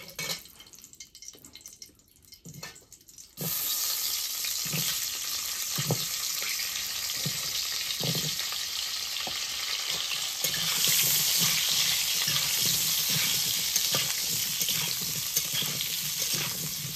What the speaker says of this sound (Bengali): একটু তেল দিয়ে আলুগুলো ভেজে নেব